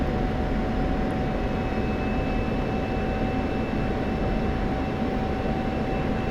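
F-16C Viper jet in the DCS flight simulator, its engine a continuous broadband roar with a faint steady whine on top, loud and unchanging, and no voices.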